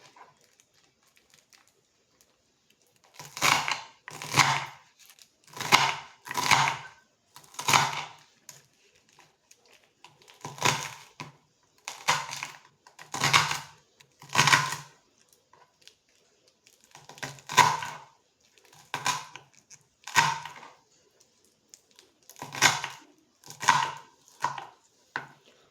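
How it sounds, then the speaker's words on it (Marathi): A knife chops radish leaves on a cutting board in a home kitchen, making bursts of rapid, crisp taps grouped in clusters with short pauses between them, close and clear with no talking. "तर ही पानं आपल्याला आता कट करून घ्यायची आहेत."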